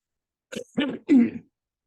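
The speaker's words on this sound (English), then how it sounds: "sorry for the cough. I'm a little congested." Three short, close coughs in quick succession from a congested man, harsh and throaty, then silence.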